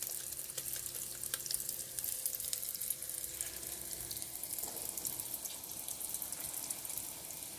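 Bean fritters (beignets) frying in hot oil, a steady dense sizzle with crackling bursts that continues loud and close throughout, with no talking.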